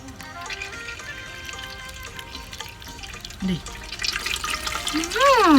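Coconut milk squeezed from grated coconut by hand, dripping and trickling into a bowl, with wet splashes and a brief pouring surge near the end; no voices are heard.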